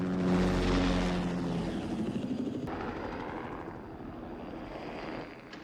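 A helicopter in the 1982 film The Thing roars close with a steady rotor thump and engine drone, the heavy whir lingering for several seconds before easing slightly.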